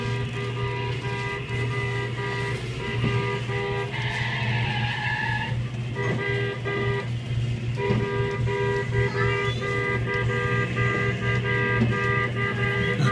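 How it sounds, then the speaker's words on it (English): A loud, blaring claw machine horn sounds over steady electronic arcade-machine hum and jingles, with busy background noise throughout. "that horn is loud"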